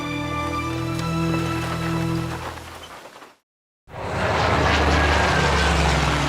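Japanese military aircraft fly over Nanjing during the 1937 bombing in a war film: a steady humming propeller engine drone breaks off into brief silence, then returns as a louder, fuller roar.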